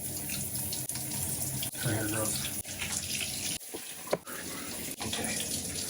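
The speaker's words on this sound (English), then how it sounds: "So I'm gonna take a normal shower" Water runs steadily from a shower, a dense continuous rush with a few brief interruptions and shifts in flow, loud and close, with a short spoken phrase partway through.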